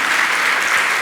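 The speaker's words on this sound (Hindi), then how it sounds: "कितना बढ़िया तालियां बजा रहे हो आप" A dense, steady wash of audience applause at a Jain monk's religious discourse, close and loud, with no gaps and no other sounds breaking through during the brief burst.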